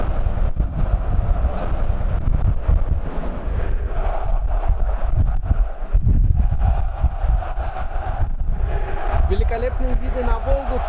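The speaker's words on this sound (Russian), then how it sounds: "Ты слышишь, да? Как дует сейчас ветер." Strong wind buffets the microphone in a steady, roaring rumble throughout at Volgograd Arena stadium, with faint background sounds.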